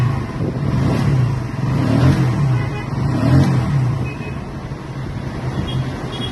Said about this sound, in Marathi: इग्निशन ऑन, पॉवर ऑन करून गाडी स्टार्ट करत आहोत.